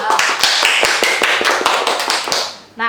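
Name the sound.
audience clapping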